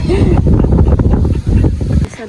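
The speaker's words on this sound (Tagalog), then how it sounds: "Mahangin dito" Steady low rumble of wind buffeting the microphone, loud and constant, with voices talking through it before dropping away at the end.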